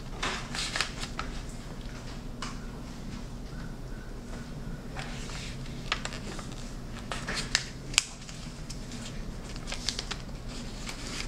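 Origami paper being folded and creased, a steady run of soft crinkles, rustles and sharp little crackles close by, with a few brief snaps of the sheet standing out over a low hum.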